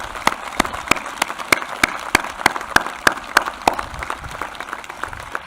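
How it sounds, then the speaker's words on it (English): Sharp, evenly spaced claps ring out from a graduation commencement crowd, a steady round of applause with distinct hand strikes about every quarter second, fairly close and loud over a low murmur. "A round of applause for these prestigious distinctions."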